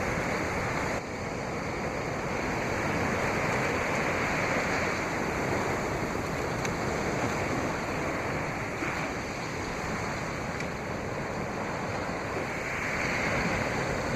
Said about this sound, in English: I really want to capture the energy of the waves